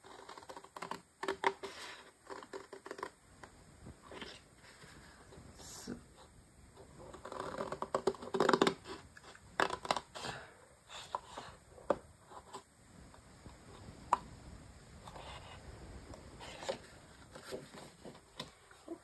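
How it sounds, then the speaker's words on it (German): Large scissors make long cuts through paper during card crafting, a series of soft crisp snips and scraping slides that come in irregular bursts, close but quiet, with no talking. "Große Schere für lange Schnitte macht sich am besten."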